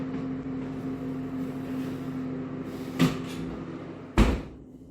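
Two knocks of a heavy oven door nearby, the second a solid thud as it shuts, over a low steady appliance hum.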